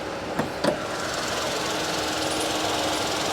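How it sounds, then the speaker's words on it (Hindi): The 1-litre turbocharged three-cylinder engine of a Kia Syros idles with the air conditioning on, a steady close rumbling drone with faint knocking texture and a couple of brief clicks near the start. "तो ये 1 लीटर का टर्बोचार्ज यूनिट है,"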